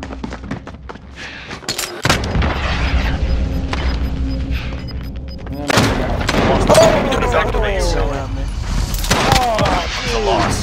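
A grenade goes off amid gunfire in a war video game, with deep booms and thuds, scattered shots and a heavier blast around the middle, while voices talk over the noisy battle.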